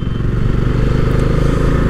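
A Bajaj Dominar 400 motorcycle idles with a loud, close, low throbbing engine rumble, steady and continuous with a slightly uneven pulse and no voices.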